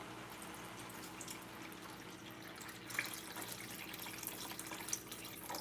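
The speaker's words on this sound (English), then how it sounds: "This is the water I'm putting here." Water runs and splashes softly into a cooking pot set up for steaming, a fairly quiet, continuous trickling with a few louder splashes near the middle and end, no voices.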